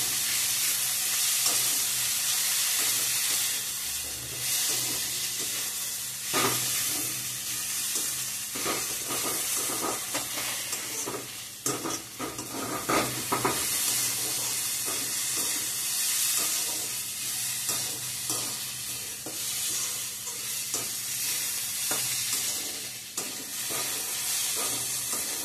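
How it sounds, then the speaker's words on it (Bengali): Cabbage stir-fried with potatoes and onions in a pan gives a steady, close sizzle and frying hiss, broken by repeated scraping stirs of a spatula over the full stretch, with no voices. "বাঁধাকপিটাকেও ভালো করে আলু আর পেঁয়াজের সঙ্গে লাগিয়ে নেব।"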